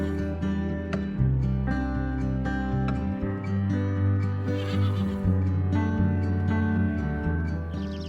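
Wild horses in open Mongolian meadows neigh and whinny repeatedly, loud and near, several overlapping calls alone over about eight seconds.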